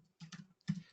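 Keystrokes on a computer keyboard in two short bursts of clicks, close and fairly quiet, with a brief pause between them and no talk.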